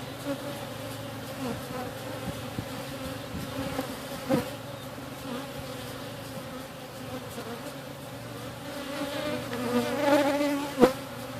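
Honeybees buzz steadily throughout a hive split, a dense continuous hum from many insects close by, swelling louder near the end with a few sharp knocks and bumps of equipment.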